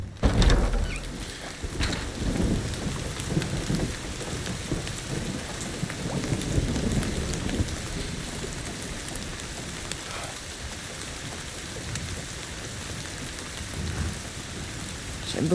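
Heavy rain pours steadily in the game Indiana Jones and the Great Circle, with a deep rumble of thunder at the start and lighter rolls later, all under a constant wash of falling water.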